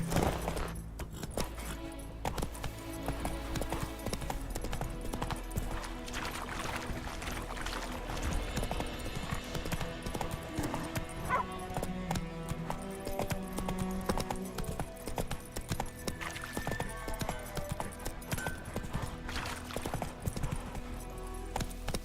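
Horse hooves gallop in a steady, rapid clip-clop rhythm in the video game The Witcher 3, close and continuous, with faint game ambience underneath.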